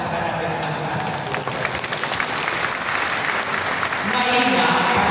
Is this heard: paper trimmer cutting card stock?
no